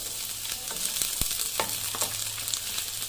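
Sliced onions frying in oil in a pan alongside browning garlic while pork steak is being cooked, a steady close sizzle with a few sharp spatter pops and light stirring clicks.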